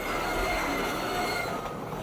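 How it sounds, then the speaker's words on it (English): A train rolls past in the video game Half-Life 2, a steady, loud rumble with faint squealing wheels, continuous throughout with no voices. "you can just walk right into the train"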